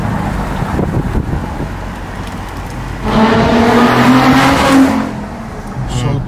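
A Mercedes SL350 V6 with a wide body kit and wider wheels drives past, its engine swelling loud in the middle with a sustained rising tone before easing off, over steady road and wind noise.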